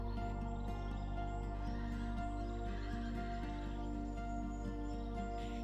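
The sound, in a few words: wild mustang horses neighing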